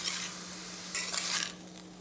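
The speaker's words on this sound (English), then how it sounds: "and go on stirring it" Vegetable soup with bottle gourd being stirred in a pot, a steady soft scraping and sizzling hiss throughout, with a brief louder burst of stirring midway, close and alone without voices.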